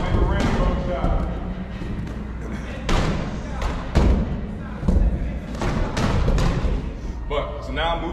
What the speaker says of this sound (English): Drop, toss up, we'll hit up top, and let it bounce and reset.